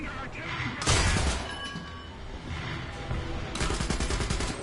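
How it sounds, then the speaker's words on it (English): Bursts of machine gun fire in War Thunder, with a sharp rapid volley near the start and another sustained burst toward the end, amid battlefield noise and talk. "Well, that's how you do the machine gun. Just hold the button down."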